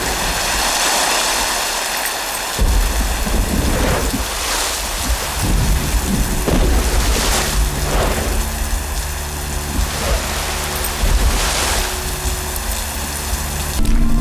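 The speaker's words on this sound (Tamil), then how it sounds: "இந்த மழையில காத்து புயல் வேகமா நிக்கி" Heavy rain pours down in a storm with strong wind, a dense continuous hiss broken by deep booming rumbles of thunder, loud and close throughout with no voices.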